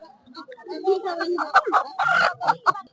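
Chickens cluck at a village market on a winter afternoon, close and intermittent, mixed with people talking.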